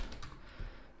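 Code is being typed on a computer keyboard, a quick run of soft, close clicks at low volume with no speech over them.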